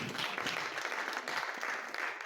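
An audience at a human rights forum claps steadily, a dense, even patter of applause at moderate distance that lasts throughout.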